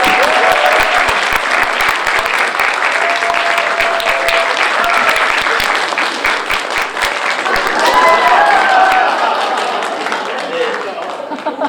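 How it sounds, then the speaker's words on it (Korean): Applause from the audience at a political talk concert in Asan, a full, sustained burst of clapping that fills the hall and slowly fades toward the end, with voices faintly mixed in. "박수 부탁드립니다."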